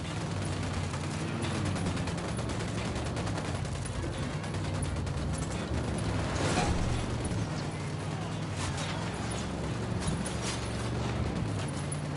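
Gunfire in Ghost Recon, sustained rattling bursts of rapid shots over a steady low engine-like drone, loud and continuous for about twelve seconds with a heavier burst near the middle.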